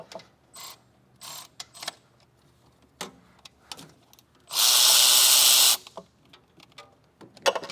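Ratcheting wrench work on the injection line bolts of a 2001 Dodge Cummins, heard as scattered clicks and metal taps across the clip with one loud sustained hiss-like burst around the middle, up close.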